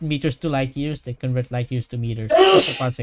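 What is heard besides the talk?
sneeze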